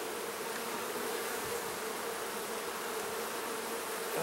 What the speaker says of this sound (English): there's just so many bees